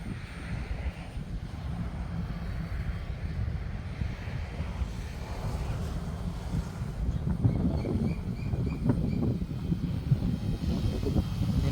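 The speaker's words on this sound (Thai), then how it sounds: "วันนี้ลมแรงนะครับผมแต่เราก็สู้ลมได้เนาะ" Strong wind buffets the microphone outdoors while an FW200 RC helicopter flies, a steady, loud rumbling roar with gusty swells throughout and a faint motor whine on top.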